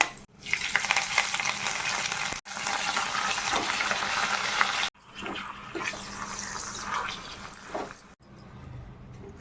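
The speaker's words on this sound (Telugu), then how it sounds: "ఆవాలు జీలకర్ర వెల్లుల్లి శనగపప్పుని వేగనివ్వాలండి" Garlic, chana dal, mustard seeds and cumin frying in hot oil for a coriander chutney tempering, giving a steady close crackling sizzle broken by brief pauses, with a few small clinks and stirring sounds.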